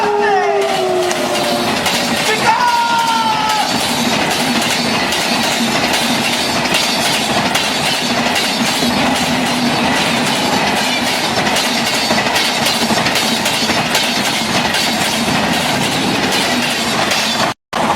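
A moving train rumbles steadily with rhythmic clickety-clack of wheels on rails, loud and continuous, with brief squealing tones near the start, played as a sound effect during a Hindi stage thriller.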